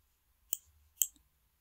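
Two crisp, close computer mouse clicks about half a second apart, made while navigating Windows sound settings, each sharp and isolated against near silence.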